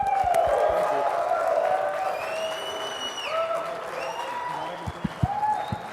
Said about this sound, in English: Let's see some clapping.